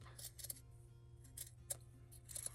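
Scissors cut up through the fabric of a shirt seam in a quiet room, making several brief, faint snips in irregular bursts.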